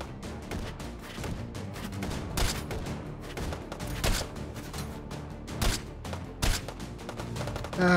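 Rapid bursts of gunfire in the VR shooting game Hot Dogs, Horseshoes & Hand Grenades during long-range combat, sharp repeated shots and volleys cracking irregularly across the whole stretch, fairly loud with no talking.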